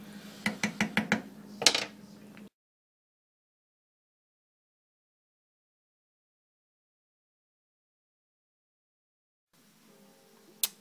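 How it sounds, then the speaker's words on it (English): A spoon stirring pulled pork in a metal pot, giving a quick run of sharp clinks and scrapes, then silence, then a faint clatter at the end. "Give it a little stir, rotate the meat a little bit"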